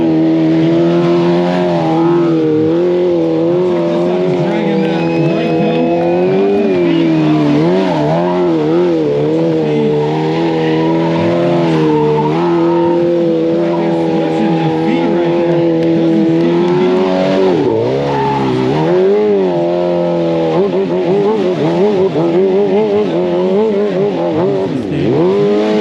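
A BMW stunt motorcycle ridden hard at an outdoor stunt show at the 2023 Barber Vintage Festival, its engine revving and wailing continuously for the whole stretch, loud and close, with tire squeal mixed in and no talking.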